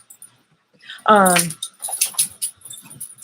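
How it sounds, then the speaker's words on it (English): A dog gives a single sharp yelp or bark close by, followed by faint scuffling and shuffling noises. "Maybe you should take the dogs somewhere."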